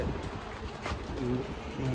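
Caged pigeons kept for sale coo softly and repeatedly nearby, a low murmuring drone with a few clearer coo phrases toward the end and no speech.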